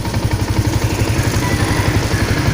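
A clutched motorcycle engine runs close and loud, a steady rapid chugging throb throughout with no speech.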